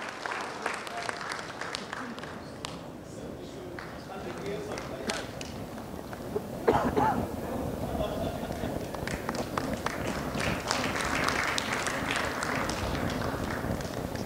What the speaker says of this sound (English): We can have a huge round of applause,